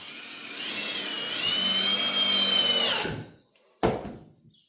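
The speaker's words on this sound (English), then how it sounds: "Of course, I have a knot right there where I want to drill." A power drill whines steadily for about three seconds as it bores into wood at a knot, then stops; a short second burst follows after a pause.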